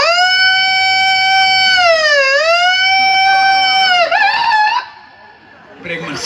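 A human voice imitates a VIP car siren, holding a loud, steady wailing tone that dips and rises, then breaks off into brief, rougher vocal sounds near the end.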